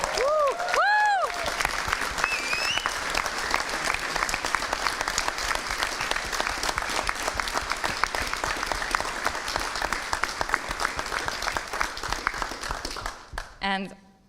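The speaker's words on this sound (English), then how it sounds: "Round of applause." A crowd at a pod reveal launch event claps steadily with whoops and cheers at the start, a long even roar of applause that drops away near the end as a voice begins.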